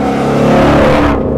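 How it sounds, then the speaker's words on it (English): A Ford Mustang Shelby GT350 with a flat-plane-crank V8, running in track mode on a raceway, roars loudly from its exhaust in a steady, harmonically rich drone heard from inside the car, with no other sound over it. "that's why you can't hear me over this exhaust"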